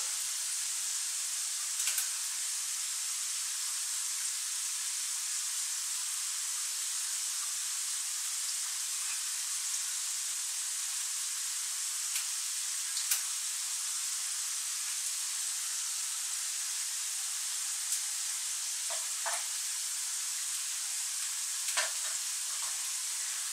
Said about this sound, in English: just leave that to fry a bit